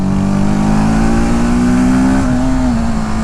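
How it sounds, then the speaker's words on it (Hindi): TVS Apache RTR 310 motorcycle engine revving, a loud, steady, close-up drone that climbs in pitch, then dips and settles, with no talk over it. "जब वो टॉप एंड में पहुंचेगा तब तो बहुत ज़्यादा आवाज़ करता है"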